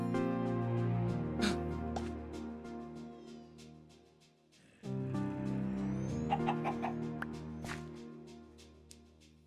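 Chicken clucking in the Minecraft GTNH modpack, repeated short clucks over steady tonal game music that drops out briefly midway and then resumes.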